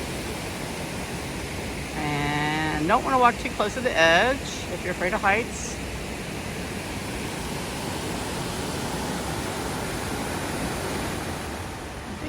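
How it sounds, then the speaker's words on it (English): A wild rushing creek in a run of waterfalls along a walking route from Ponte de Lima to Rubiaes roars as a steady, full hiss throughout, with a person talking briefly over it near the start. "This is just a wild rushing creek."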